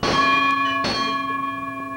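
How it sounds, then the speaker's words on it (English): A large Swiss cow bell, the kind a lead cow wears to mountain pasture, clangs twice with bright, sustained metallic overtones ringing on between the strikes. "it might be the bell the lead cow wears on her way to pasture"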